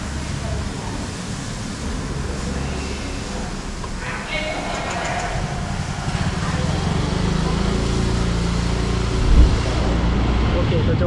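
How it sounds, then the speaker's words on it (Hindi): A Yamaha RayZR 125 scooter, just repaired for a panel rattle, is started and ridden. Its small engine drones steadily and close by with road rumble, growing a little stronger toward the end. "गाड़ी चालू करके चला के भी देख लेते हैं"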